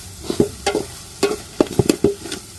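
Chicken pieces tossed into a hot pan with dried red chillies and stirred, giving a run of short scraping and clattering strokes with light sizzle between them, close and fairly loud.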